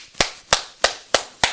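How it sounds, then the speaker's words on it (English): Five sharp hand claps at a steady, brisk rhythm, each a crisp close slap with a quick decay and near-silence between them. "start clapping your hands"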